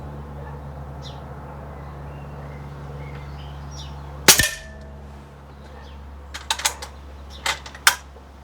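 An Uragan 3 walnut air rifle firing RWS Hobby Sportline flat-headed pellets: one sharp, close crack midway through, followed by a few lighter clicks and clatters of handling in a quiet setting.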